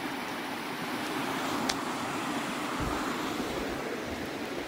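A river flows along the Te Araroa Trail, a steady broad rushing wash of water mixed with wind noise, continuous and fairly loud, with no talk.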